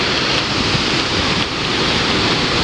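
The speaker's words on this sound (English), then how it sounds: "we still do have a Paria waterfall" The Paria waterfall after a flood roars as a dense, steady rush of falling water, loud and close, with no voices.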